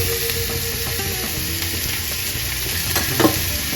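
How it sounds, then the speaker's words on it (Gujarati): Green chilies frying in hot oil with mustard seeds, cumin and asafoetida, a steady loud sizzle and crackle throughout, close up, with a few small pops and stirring scrapes near the end, no talking. "પેલા મરચા તળાઈ જાય"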